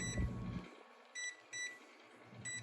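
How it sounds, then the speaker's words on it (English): A kitchen timer gives several short, faint electronic beeps at an uneven pace while being set for fifteen minutes in a home kitchen. "We're just gonna put the timer on for 15."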